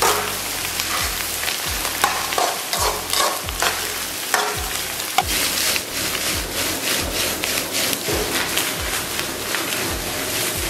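Diced carrots stir-fried in a wok over high heat with a splash of light soy sauce, loud close sizzling under rapid, rhythmic spatula scrapes and clatters against the metal.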